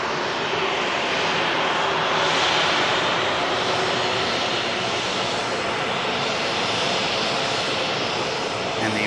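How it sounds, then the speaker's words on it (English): A Ryanair jet touches down at Manchester Airport, its engine roar loud and continuous with a broad rushing hiss that swells and fades slightly, and a voice faintly under it. "This Ryanair just touching down."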